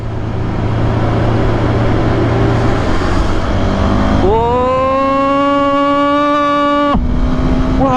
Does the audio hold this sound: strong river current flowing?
no